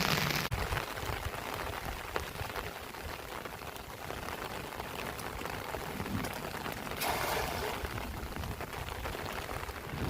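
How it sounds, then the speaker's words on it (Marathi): Heavy monsoon rain falls steadily outdoors, a dense continuous hiss of drops striking the ground and surfaces for the whole stretch, with no voices. "पाऊस तर काय आता उघडायचं नाही असं वाटतंय"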